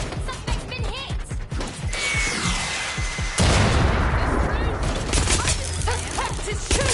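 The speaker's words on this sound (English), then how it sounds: "Suspect is shooting." Rapid gunfire bursts and booming shots from a Watch Dogs Legion gunfight, loud and dense, with overlapping cracks and rumbling impacts that keep going without a break and grow heavier midway through.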